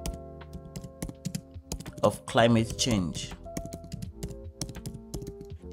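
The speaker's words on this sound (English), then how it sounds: "Right here, I'm going to type in write a review" Rapid, steady clatter of keys on a computer keyboard as a query is typed, close and crisp, running throughout while a person talks briefly in the middle.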